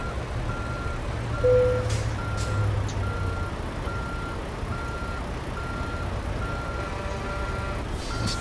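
Truck in American Truck Simulator reversing, its backup alarm sounding a steady series of evenly spaced beeps over a low engine rumble, with a short air hiss near the start.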